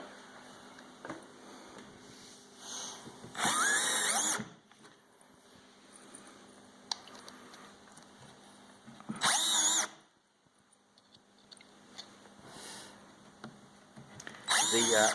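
Power drill driving screws into pre-drilled holes in wooden rails during assembly of a Pikler climbing frame, with several loud close bursts separated by quieter stretches of handling noise.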